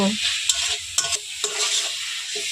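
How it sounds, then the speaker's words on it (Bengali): Tomatoes stirred and fried in hot oil in a pan, with a steady sizzle broken by several sharp scraping stir strokes at irregular intervals, close and fairly loud, with no talking. "আমি এই তেলের মধ্যে খুব ভালো করে টমেটোগুলোকে নাড়াচাড়া করে রান্না করে নেব"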